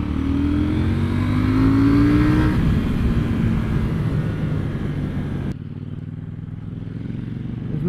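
A 2018 KTM Duke 790 engine drones on the road, loud and close, rising in pitch as it revs, then settling into a steadier, lower cruise, with wind rushing throughout.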